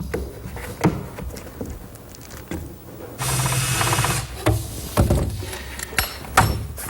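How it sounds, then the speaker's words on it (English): Screws being driven through a quarter-inch plywood back into a panel frame for a kitchen island: a sustained whirring power-driver burst in the middle, surrounded by scattered knocks, clicks and handling noises of wood. "Here I'm attaching the panel with some screws through the plywood back into the panel frame."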